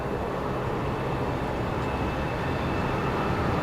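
An Emirates airliner taking off at Brisbane Airport produces a continuous broad roar of jet noise, loud and steady across the whole stretch without voices.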